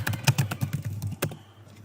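A computer keyboard is typed on up close with a quick run of crisp clicks, then the keys go quiet and a short near-silence follows; no one talks.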